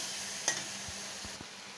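Grated cucumber fried in a pan with mustard, cumin, green chilli and ground coconut paste, stirred with soft scraping strokes and a faint steady sizzle, quiet and close.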